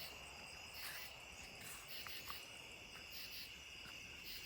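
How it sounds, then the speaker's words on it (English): Crickets and other insects chirp steadily on a quiet night outdoors, a dense high-pitched trill that holds throughout at a constant level, with no voices. "You can hear the crickets and the bugs, those will be gone soon."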